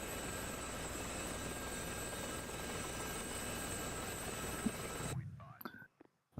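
A helicopter in the combat flight game DCS World gives a steady, droning rotor and turbine roar that holds evenly for about five seconds, then cuts off abruptly, leaving near silence with faint stray noises.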